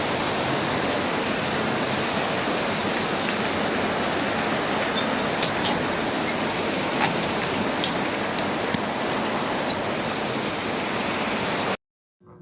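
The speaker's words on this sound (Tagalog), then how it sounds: "Grabe ang ulang kasi." Heavy rain falls steadily as a dense, loud, continuous wash with scattered drops, no talking, then cuts off abruptly just before the end.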